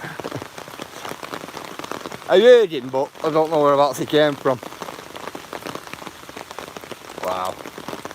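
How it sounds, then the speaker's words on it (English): Heavy rain pours steadily onto a canopy in Blackburn, a dense continuous hiss lasting throughout, with someone talking over it in the middle. "It's really raining. To the point where it's bad."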